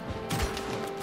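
A single gunshot striking an enemy in Red Dead Redemption 2, a short sharp crack with a brief thud under steady game background noise.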